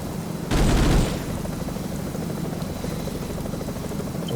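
Burst of heavy automatic fire from an M2 .50 caliber machine gun in the Vietnam War game Vietcong, a loud dense roar lasting about half a second, then a steady droning rumble with no talk.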